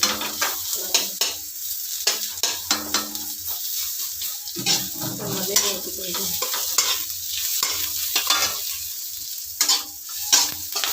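Onions fry and sizzle in a hot pan for veg chowmein, a steady crackle heard close up, broken by repeated scraping and stirring strokes and the occasional knock of a utensil.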